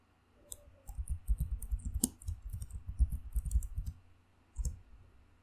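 Soft computer mouse clicks while creating folders, a quick irregular run of light taps followed by a short pause and one more click, faint and close.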